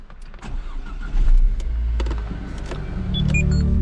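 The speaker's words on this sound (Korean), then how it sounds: "시동도 켜볼게요." A Renault Samsung XM3 with a 1.4 turbo engine starts up from inside the cabin: a brief starter crank, then a steady low idle that rises slightly, with small interior clicks and chimes.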